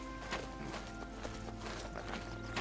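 Horse hooves clip-clop at a steady walking rhythm in the Oblivion video game, soft and moderately close, mixed with a constant hum of game ambience.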